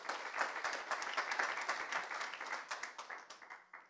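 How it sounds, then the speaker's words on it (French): Audience applause at a live shopping conference session, a burst of close, crisp clapping from a modest crowd that thins and fades toward the end. "Merci Dove, on peut l'applaudir."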